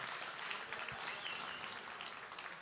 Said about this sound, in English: Can we get a huge round of applause to the underbidders and the gentleman?